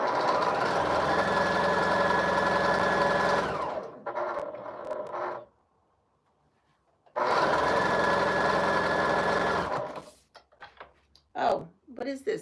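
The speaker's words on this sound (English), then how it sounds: "Did I just sew without bobbin?" Sewing machine running without a bobbin, a steady mechanical whir for about four seconds, then a brief rattle and silence before a second run, followed by a few knocks and faint sounds.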